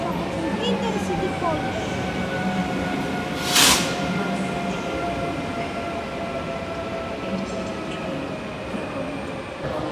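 An Intercity passenger train departs a station in Kraków, a steady low rumble with faint tonal whines throughout and one brief sharp hiss midway, while someone talks over it.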